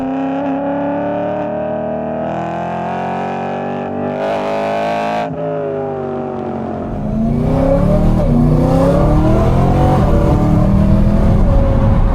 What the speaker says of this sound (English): Naturally aspirated V8.